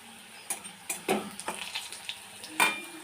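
Ginger frying in a wok with a soft background sizzle, punctuated by several scraping stirs and light clinks of a utensil against the pan; potatoes and paneer are being cooked.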